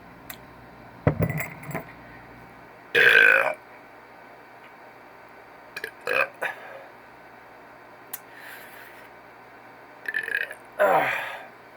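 Several weak belches from a man, spread unevenly through the clip and mixed with brief clinks and handling noises, at close range over a quiet, steady room background.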